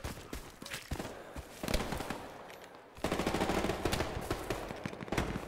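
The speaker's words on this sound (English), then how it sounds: "Don't be shooting at me." Gunfire in the Heroes & Generals video game, with rapid machine-gun bursts and sharp single shots rattling in clustered volleys, plus some lighter footstep-like thuds between the loud salvos.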